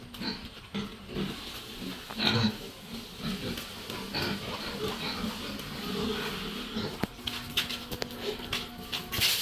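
Pigs raised on a rural farm grunt and snort in irregular bursts, close by and moderately loud, mixed with scuffling and a person speaking at times.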